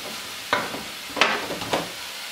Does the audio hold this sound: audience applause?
no